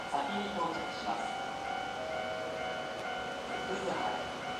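A Keihan electric train rumbles steadily through Tambabashi station, a constant low hum with faint squeals and clatter, while a Japanese announcement plays over it.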